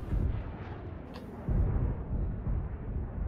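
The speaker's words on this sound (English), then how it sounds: "The explosions alone make this game worth it." Explosions in a mech combat video game, a run of deep rumbling booms and blasts that rise and fall over a few seconds, heavy and continuous with no talk.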